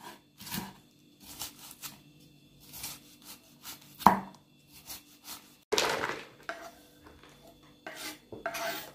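A knife chops purple cabbage on a board in a home kitchen, with irregular crisp cuts and small clusters of strokes separated by pauses, close and fairly quiet.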